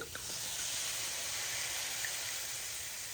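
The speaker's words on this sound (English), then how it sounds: "now I'm going to add in a dry white wine" Dry white wine poured into a hot pan with olive oil sizzles and hisses in a steady, soft, broadband steam that holds evenly for a few seconds, fairly quiet and close.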